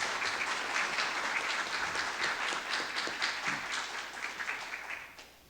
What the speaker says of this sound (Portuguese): Peço uma salva de palmas ao Dr.